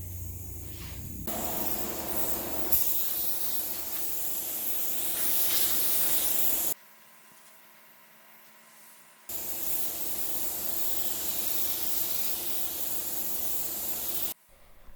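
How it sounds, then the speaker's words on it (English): A base coat spray gun spraying primer hisses in long continuous bursts, broken by a brief pause, loud and close with a steady airy rush. "I'm spraying my primer out of a base coat gun"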